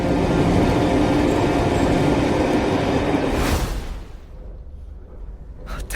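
Train travelling into a tunnel, a loud rumbling roar of wheels and carriage that abruptly drops away to a muffled, quieter hum, with a faint click at the end.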